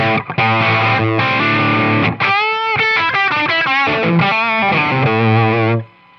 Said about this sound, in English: what you're hearing there is the unprocessed Rev G20 feeding the power cab into the ribbon mic